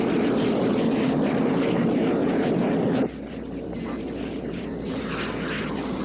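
An aircraft flies in on approach for touchdown, a loud continuous engine and propeller drone that drops abruptly partway through to a quieter steady hum with faint tones.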